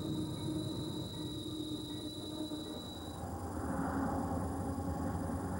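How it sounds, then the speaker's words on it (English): A heavy diesel locomotive train rumbles past nearby with a steady low roar and a sustained high whine, loud and continuous. "The great diesel locomotives are capable of hauling massive amounts of heavy cargo"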